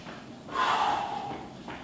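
Heavy breathing during an advanced cardio workout: one long, loud breathy exhale with a snorting, gasping edge, rising and tapering over about a second, followed by a quieter breath.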